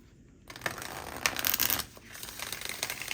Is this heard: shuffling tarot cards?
yes